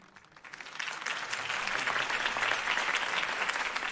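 Applause from a crowd in the video game Batman: The Telltale Series swells up after a quiet start and holds steady, a dense wash of clapping.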